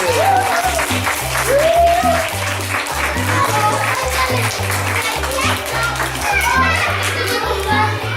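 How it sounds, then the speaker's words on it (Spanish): Children applauding loudly for Papá Noel, a burst of quick clapping mixed with excited kids' voices over background music. "Y ahora un aplauso muy fuerte."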